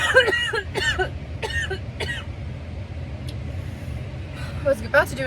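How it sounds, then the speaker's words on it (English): Repeated coughing fit after a distance running session, several sharp close coughs with throat clearing over a background of passing road traffic. "I was about to do an impression, but ended up coughing a bunch."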